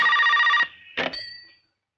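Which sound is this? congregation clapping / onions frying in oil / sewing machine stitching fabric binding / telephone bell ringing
telephone bell ringing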